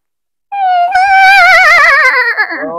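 A man vocally imitates a horse's whinny, giving one loud, close, high-pitched cry that quavers and wobbles for about two seconds after a brief silence.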